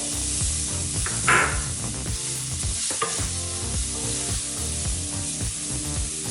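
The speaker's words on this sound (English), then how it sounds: "I'm going to add in our onion" Onion sizzling in hot oil with spices for shakshuka, a loud close frying hiss broken by stirring scrapes and a sharp burst when the onion is moved, continuous throughout.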